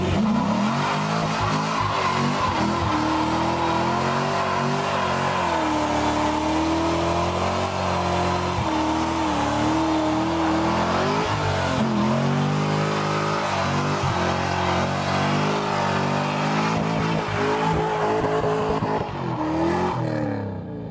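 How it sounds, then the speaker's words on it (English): A 2004 Corvette doing a burnout: loud, sustained engine revving with shifting pitch and tire squeal running continuously for about twenty seconds, close by, no talking. "I'm here to do a burnout for you."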